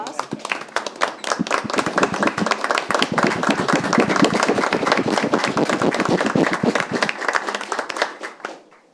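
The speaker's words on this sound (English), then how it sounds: "applause." A room full of people at a town selectboard meeting in Kennebunkport, Maine, claps, building to a dense, lively round of applause that holds steady before tapering off at the end.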